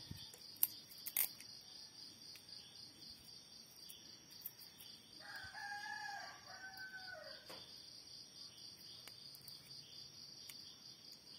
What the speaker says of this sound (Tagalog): Nag-iingay na yung mga manok namin dito guys.